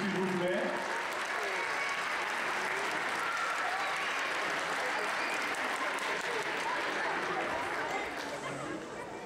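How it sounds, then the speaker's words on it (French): A crowd applauds a museum director at a fencing event in Melun, a thick continuous clapping that holds steady for several seconds with murmured chatter underneath, then eases slightly at the end. "On l'applaudit s'il vous plaît."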